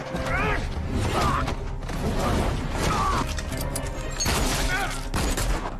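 Tommy gun fire in a Legends of Tomorrow TV action scene: dense, sustained bursts of rattling shots and mechanical clatter for about six seconds, loud and close, with shouting voices mixed in.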